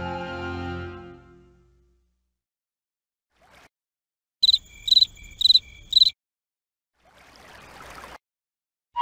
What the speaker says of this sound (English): The chirping cricket.